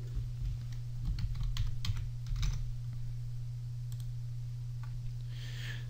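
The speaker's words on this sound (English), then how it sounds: "Now, input the password." A password being typed on a computer keyboard, soft quick key clicks in short irregular bursts over a constant low electrical hum, close and fairly faint.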